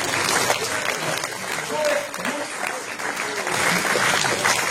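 A crowd steadily applauds at a municipal election list presentation in Dunkirk, a dense continuous clapping that fills the whole stretch while a voice carries on over it.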